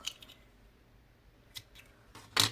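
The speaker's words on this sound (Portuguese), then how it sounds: "E agora, eu vou cortar o meu fio" Scissors cutting crochet yarn, a few soft snips early, then a single sharper close snip near the end, over quiet room background.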